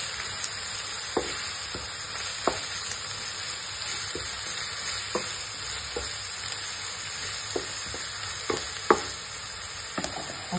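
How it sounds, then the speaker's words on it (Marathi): Chopped spring onions sauté in hot oil for fried rice, a continuous bright sizzle broken by the scattered scrapes and taps of a stirring spoon. "आपण आता कांद्याची पात तेलात परतून घेऊया."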